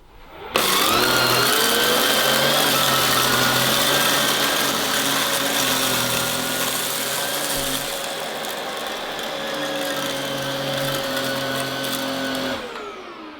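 A Samsung Powerstick Pro VS8000 cordless vacuum with its dual action brush head runs continuously with a loud, steady motor whine and brush hum, dipping slightly partway through, then cutting off near the end; no talking.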